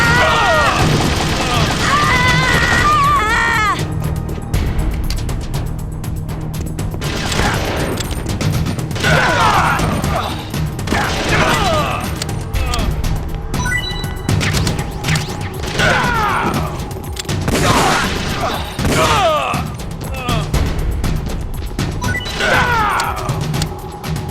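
Gunfire and crashing impacts in the Metal Gear Solid: The Twin Snakes GameCube game, with sharp shots and smashes recurring through a loud, busy scene as voices talk over the action.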